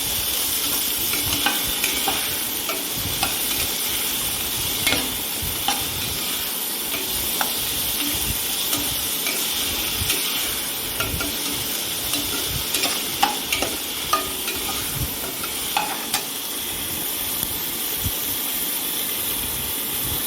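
Tomatoes with salt frying in a pan for mushroom biryani, stirred with a spoon: a steady sizzling hiss throughout, with scattered scraping clicks from the stirring, close and alone with no voices.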